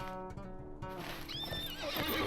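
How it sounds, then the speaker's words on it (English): A horse in the online game Lord of the Rings Online whinnies loudly with clip-clopping hooves, a synthetic game-audio neigh rising and falling over quiet steps. "On my horse, we ride through the fields"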